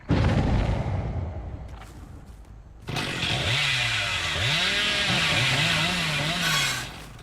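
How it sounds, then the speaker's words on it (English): The Hillbilly's chainsaw in the Dead by Daylight video game roars loudly, first a harsh burst that fades, then a sustained revving drone with rising and falling pitch sweeps as it runs for several seconds. "Can maneuver around the map with the chainsaw."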